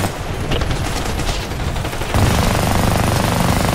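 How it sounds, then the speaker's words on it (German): Dense, loud gunfire in the video game Army of Two: The Devil's Cartel, rapid overlapping automatic bursts that intensify halfway through into an unbroken barrage. "Sie stehen unter Beschuss."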